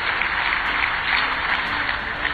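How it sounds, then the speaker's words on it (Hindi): Continuous audience applause at an event on water conservation work, a thick, sustained wash of many hands clapping at a steady level throughout. "जोरदार तालियों से स्वागत कीजिए धनोरा"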